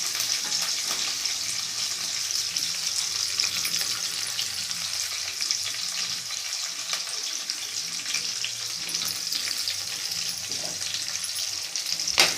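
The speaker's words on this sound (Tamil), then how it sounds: "இவங்களை நல்லா வதக்கிக்குவோம்." Onion, green chillies and crushed garlic sautéing in a pan, an even, dense sizzle running steadily at close range with faint stirring underneath.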